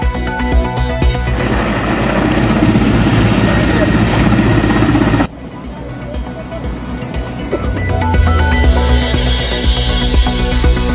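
A rescue helicopter's steady rotor and engine roar fills the air over landslide-hit Wayanad, Kerala, loud and continuous, dropping briefly in level before building again.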